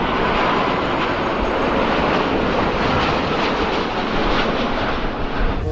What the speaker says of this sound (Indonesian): ada pesawat penumpang luar negeri. Ini pesawat Singapore Airlines